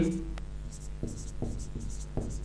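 Writing on a board during a lesson: quiet scratchy strokes in short repeated bursts over a low steady hum.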